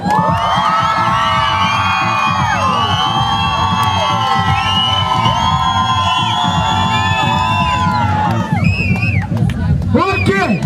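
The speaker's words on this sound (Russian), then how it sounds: "И вы должны будете еще громче выкрикивать их имена, свистеть, орать и визжать." A loud crowd at a breakdance championship in Sukhum roars continuously, with shrill whistles and high screams sweeping over dense shouting for about eight seconds before briefly thinning.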